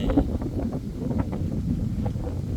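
Strong wind blows outdoors among trees on a hot, sunny day, a steady rough rumble buffeting the microphone with no speech over it.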